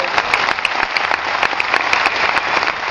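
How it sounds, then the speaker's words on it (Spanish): Loud, steady applause from a convention audience, dense overlapping claps filling the room without a break. "Aplausos, aplausos."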